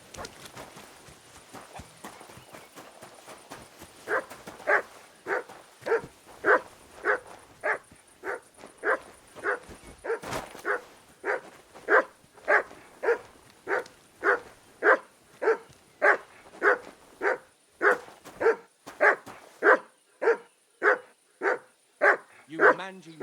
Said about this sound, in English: No one wants to hear your barking. Such a naughty dog.